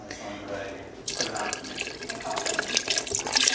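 A 32-ounce carton of beef broth is poured into a pot of stuffed pepper soup, a steady wash of splashing liquid that swells after a quiet start and continues close by.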